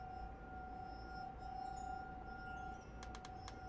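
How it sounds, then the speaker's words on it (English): Chandelier decorations clinking in a breeze inside a game's hotel, a few faint glassy chinks near the end over a steady tonal hum and soft room noise. "Every time the window behind the bar was opened, the decorations would clink."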